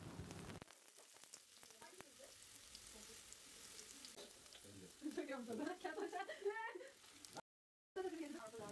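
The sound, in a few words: onions frying in sunflower oil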